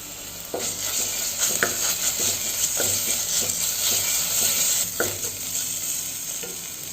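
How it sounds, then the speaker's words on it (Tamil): Ginger garlic paste and onions sautéing in hot oil, with a constant close sizzle and regular scrapes and clinks of a spatula stirring in the pan, no voices. "நம்ம இஞ்சி பூண்டு பேஸ்ட் சேர்த்து இஞ்சி பூண்டோட பச்சை வாசனை போகிற அளவுக்கு நல்லா வதக்கிக்கணும்."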